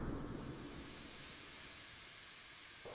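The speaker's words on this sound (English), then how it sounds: "a beautifully warm and fragrant steam rose high into the freezing air of the cramped room. Thick, golden porridge bubbled up forcefully from the bare iron bottom" Steam hissing and thick golden porridge bubbling up from a soot-stained iron pot in a cramped room, a steady broad hiss with low rumbling bubbling underneath, continuous and fairly close throughout.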